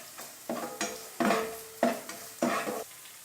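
Grated coconut stir-roasted in a pan for chicken roast, with repeated bursts of spatula scraping and light sizzling in an uneven rhythm, close and clear, no talking.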